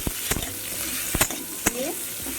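Prawns frying with salt and turmeric in a pan, a continuous sizzle broken by several sharp scraping stirs of a spatula against the metal; no voices.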